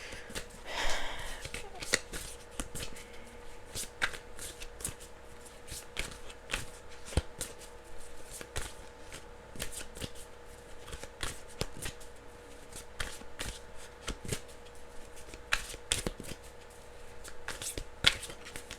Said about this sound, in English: I'm shuffling the true crime cards.